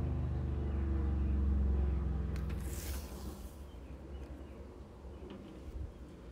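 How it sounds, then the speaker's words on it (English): A loud motorcycle engine rumbles outside a window, strongest at first and then fading as it moves away, leaving a softer low drone. "There's a very loud motorcycle outside the window for a minute there."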